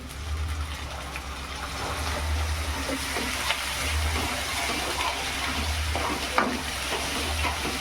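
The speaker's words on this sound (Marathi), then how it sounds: "कांदा पेस्ट व्यवस्थित आपण शिजवून घेऊ." Onion paste with cumin and coriander powder for masala vangi cooks in a pan with a continuous soft sizzle and bubbling, the level steady throughout, with a single small knock near the end.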